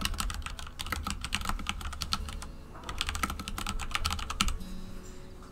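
Rapid bursts of typing on a computer keyboard, steady clicking keys in quick runs with brief pauses, close and moderately quiet with no talking.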